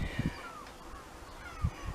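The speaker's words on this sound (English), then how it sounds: "You can hear the seagulls." Seagulls call near a garden greenhouse in spring, a few drawn-out cries at moderate distance, with low soft knocks close by.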